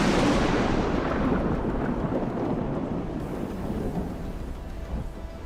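A thunderstorm in the video game DayZ, set in Chernarus: a loud, steady wall of heavy rain and deep rolling thunder rumbles on without a break, with no voices.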